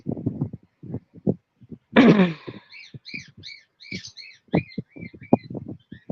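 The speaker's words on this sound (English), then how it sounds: "my birds are kind of noisy now." Pet birds chirp noisily indoors, with a rapid run of short, close chirps and calls, one louder burst of squawking early on, then a string of higher tweets, all without talk.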